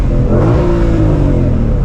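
A 2022 Shelby GT500 engine revs hard and loud on a paddle-shifter pull while rolling, the pitch climbing and falling in a continuous roaring burst, close by.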